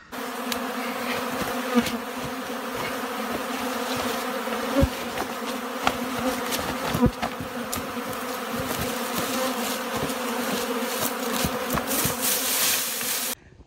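Honey bees hum around rural beehives at the back of a countryside property, a dense, continuous close buzz with individual insects zipping past the listener.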